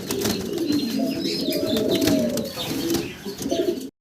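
Bombai pigeons coo steadily in a low, throaty chorus, with a few faint chirps and rustles mixed in, fairly close and continuous.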